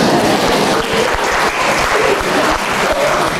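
Loud, close, sustained applause from an audience at a live conversation event, a thick continuous roar of clapping hands with no talk over it.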